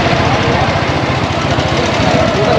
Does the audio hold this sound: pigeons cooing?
no